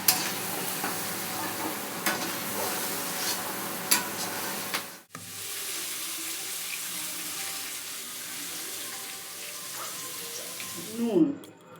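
Vegetables with raw ginger being stir-fried for egg chowmein, a steady soft scraping and sizzling under water-like hiss through the whole stretch, with a brief break partway and a louder clatter near the end.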